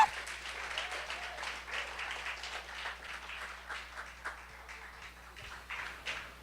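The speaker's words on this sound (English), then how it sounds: "So please give a round of applause to Einstein Ntim." Audience applause at the Haiti Tech Summit for a panel moderator: a steady patter of many hands clapping, fairly distant and soft, continuing evenly for several seconds over a faint low hum.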